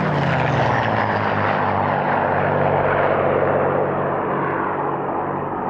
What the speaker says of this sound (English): Now two North American P-51D Mustangs fly in for their display.